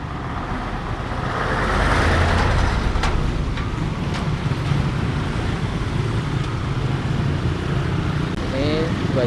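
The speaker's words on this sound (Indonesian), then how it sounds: "ada truk besar yang lewat" A large truck passes along a newly paved main road at Pasar 7 Tembung in Medan, a broad rumbling roar swelling after the first couple of seconds and holding steady amid street traffic, with a faint horn near the end.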